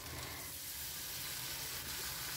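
Small puti fish frying in a pan with very little oil, giving a steady, close sizzle with soft hiss throughout and no talking.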